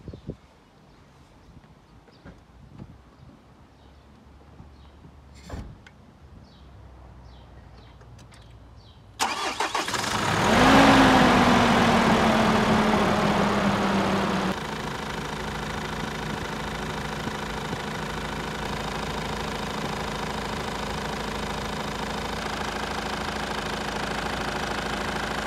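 After a quiet stretch of faint clicks, a Nissan NP300 D23 with a cylinder head fault cranks and catches. It flares briefly, then settles into a steady, fairly loud idle nearby.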